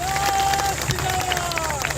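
Crowd at a political gathering in Kushinagar claps and cheers to welcome Rajbhar, a dense, close burst of applause with a voice carrying over it.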